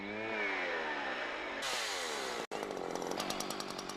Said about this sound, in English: you're sawing with the pushing chain, and the chain pushes the saw towards you